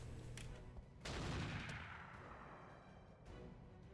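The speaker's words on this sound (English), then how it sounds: "Is that artillery or just a really ineffective autocannon?" Artillery or autocannon fire in a combat video game: a few sharp booming shots with rumbling tails, one heavier blast near the middle and a lighter report near the end, heard fairly distantly amid background battle noise.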